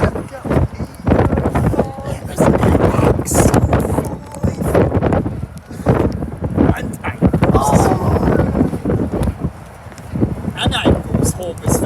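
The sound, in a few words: wind blowing on a bus ride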